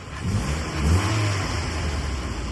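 A Ford Focus ST170 engine revs steadily and throatily, with a rising push in the middle before settling back, heard close and alone without any talk.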